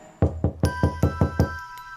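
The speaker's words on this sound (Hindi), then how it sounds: "अभिषेक ने दरवाजा खटखटाया" Knocking on a door as a horror sound effect: eight firm, evenly spaced raps, loud and close with a slight ringing tail, alone without speech.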